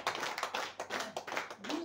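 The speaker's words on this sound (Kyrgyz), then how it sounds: "катуу кол чабуулар менен келиңиздер" Clapping from a classroom group welcoming students forward, quick uneven hand claps up close, with voices faintly mixed in.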